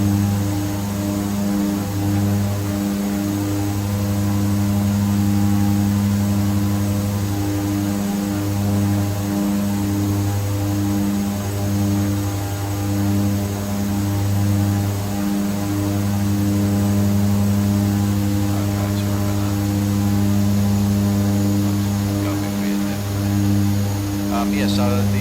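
The twin turboprop engines of a de Havilland Twin Otter drone steadily in flight from inside the cockpit, a loud continuous hum with pulsing propeller beats throughout and occasional voices faintly underneath.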